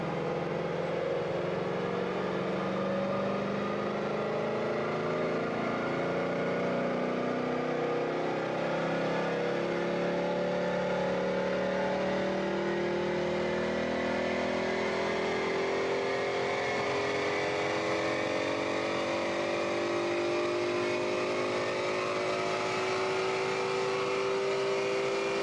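A Ford Mustang GT with a 5.0 V8 runs up on a dynamometer, a loud, continuous engine roar rising steadily in pitch through one long full-throttle pull, with no voices over it.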